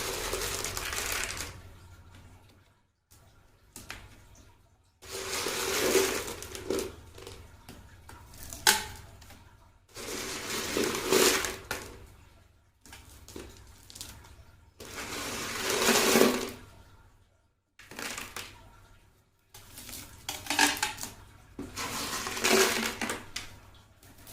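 Stones pour and rattle into a turtle tank as a new layer, arriving in about six separate bursts of clattering and scraping, each a few seconds long, with quiet pauses between them.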